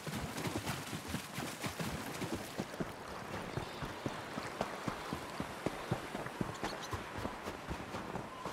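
Soft, regular hoofbeats of a horse in the video game Elder Scrolls Online clip-clop at a steady trotting pace, quiet and even, with a faint background hiss and no talking.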